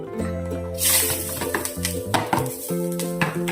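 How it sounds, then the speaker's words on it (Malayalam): Sizzling of grated coconut roasting in hot oil with a spoon scraping and clinking against a metal pan, steady frying hiss under repeated stirring knocks. "നമ്മൾ ആദ്യമേ തന്നെ ഒന്ന് തേങ്ങ വറക്കാൻ പോവുക"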